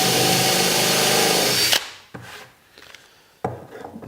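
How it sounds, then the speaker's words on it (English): A power drill whirs loudly and steadily for almost two seconds while countersinking holes in wood for a sled rack, then cuts off, followed by a few light clicks and knocks. "I'm just going to go through and countersink these"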